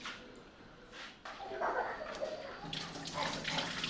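Tap water runs steadily while potatoes are scrubbed clean in a home kitchen, splashing and swishing with handling noises, growing louder after a brief quieter start.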